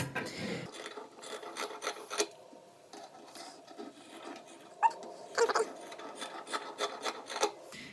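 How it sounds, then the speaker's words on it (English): Appliqué scissors cutting through fabric while sewing a McCall's 8042 drawstring neckline top; close, intermittent rasping snips and crunches separated by short pauses. "I'm going to use my applique scissors just because they're handy"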